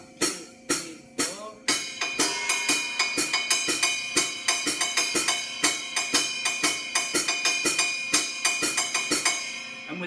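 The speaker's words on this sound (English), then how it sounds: "And the rhythm goes like this," A dense, driving drum-kit rhythm playing the Guinean Bada beat, with busy, evenly spaced strikes and ringing cymbal accents, played steadily without any voices.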